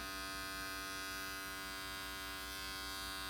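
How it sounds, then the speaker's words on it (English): Electric hair clipper buzzing steadily and close during a haircut, a constant tonal hum with a faint shift in pitch toward the end, no talking. "Now we're going to close the clipper down all the way"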